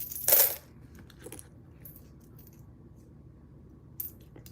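A roll of nickels pours out onto a paper plate in one loud, close, brief rattling clatter, followed by a softer clink, then a few quiet coin taps and a last small clink near the end.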